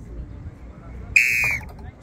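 A single sharp whistle blast, shrill and steady for about half a second, signals the release of balls in a street ball-drop game in Sorocaba, over faint background murmur.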